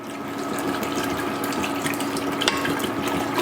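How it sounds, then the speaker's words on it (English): Water runs steadily into a cooking pot while a sandwich meal is prepared, a continuous close splashing hiss that holds level throughout, with no talk. "Now we're gonna add some water."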